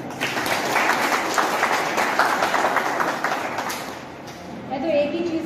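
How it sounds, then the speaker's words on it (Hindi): An audience at a hospital ICU inauguration breaks into steady, sustained applause, many hands clapping together. The clapping is loud and fills the room, then thins out near the end. "आई थिंक उन लोग के लिए तालियां बजाई जाए।"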